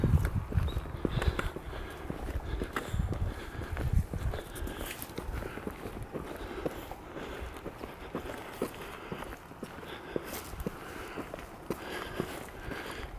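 A wild stallion's hooves clop steadily on the ground in an unhurried walking rhythm, near and moderately loud, over a soft outdoor background.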